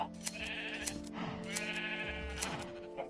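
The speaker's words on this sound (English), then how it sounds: "Now we got sheep in different pens." Sheep in pens in the video game Minecraft, giving two or three clear wavering bleats in close succession, near and fairly quiet, with no talk.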